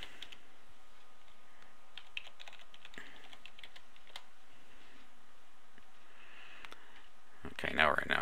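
Someone types an admin username and password on a computer keyboard, with soft irregular key clicks running quietly through most of the stretch, ending in a brief louder burst of clatter.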